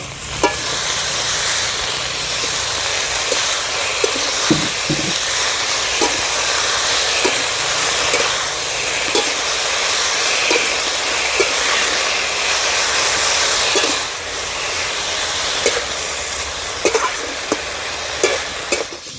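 Kolmi greens hit a pan of frying potatoes and sizzle loudly and continuously, with faint scrapes and knocks of stirring scattered through and a brief drop in the hiss partway.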